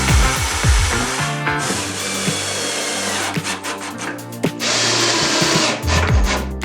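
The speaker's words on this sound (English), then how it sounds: "You got a little combination drill bit. It does a pilot hole and drills for the shank as well." A power drill fitted with a combination pilot-and-shank bit bores into wood, whirring loud and close in long runs broken by short pauses and changes in pitch as the bit bites.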